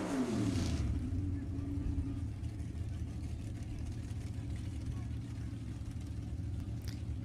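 A 1967 Barracuda drag car with a 572 cubic inch Mopar engine roars and rises in pitch at the start of a B-Gas final at Sacramento Raceway, then settles into a steady distant rumble under commentary.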